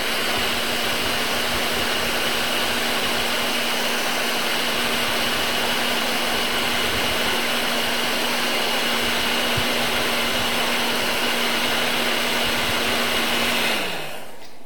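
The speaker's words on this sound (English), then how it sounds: "So I'm using a heat gun." A heat gun heating a TLC plate in a lab blows with a loud, steady whine and hiss that runs unbroken for about fourteen seconds before winding down and cutting off at the end.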